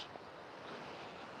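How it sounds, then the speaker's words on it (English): Steady, faint wash of sea waves on a shore at Playa Paraíso, a continuous hiss of surf with some wind and no voices. "let you listen to the sea"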